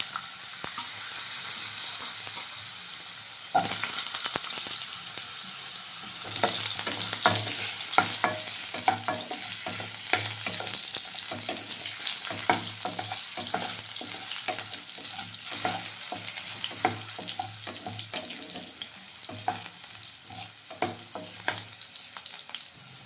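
Potatoes fry in hot oil in a pan, a steady sizzle broken by frequent clinks and scrapes of a stirring spoon, close and continuous for the whole stretch with no talking.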